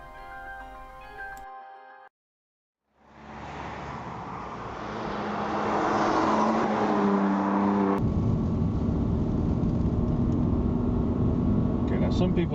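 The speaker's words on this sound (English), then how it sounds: "some people have criticised that this car isn't all that loud, doesn't sound like a real performance car" A BMW M3 engine hums at a steady, fairly subdued level while driving, building gradually and holding an even drone after a short gap of near silence, with a brief ticking sound at the start.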